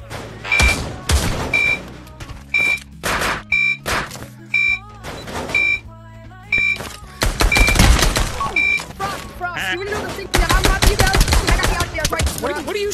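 Gunfire in the Pavlov video game during a prison lockdown, with loud, sharp shots in separate bursts and rapid volleys that grow denser toward the end, up close and without clear speech.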